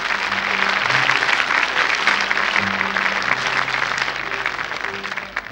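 A studio audience at a 1981 French children's television talent show applauds a young girl, sustained dense clapping throughout, loud and close, with no talk over it.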